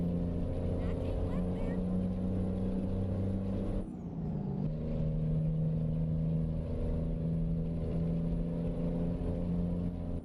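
Truck engine in a driving video game, a steady droning hum in high gear at around 60 that briefly dips as if shifting or easing off, then resumes, with a faint high whine above it.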